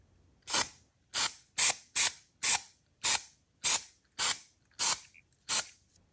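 Ten short bursts of matte white acrylic aerosol spray paint, each a sharp hiss lasting under half a second, repeated at a steady pace with brief silences between, close and fairly loud.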